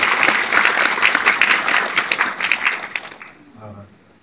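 A crowd applauds at a footage screening of the film The Witch (마녀): loud, dense clapping that thins and fades out after about three seconds, leaving a brief faint voice at the end.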